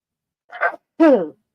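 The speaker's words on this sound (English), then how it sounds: "I still am sneezing" A single sneeze: a short sharp intake followed by a louder, voiced burst, close to the microphone with silence around it.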